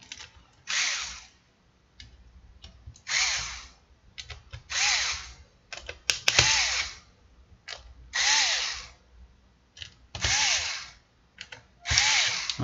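Power screwdriver drives screws into a Dell G3 3500 laptop, whirring in seven or eight short bursts with brief pauses between them, each ending with a ratcheting click, close and clear.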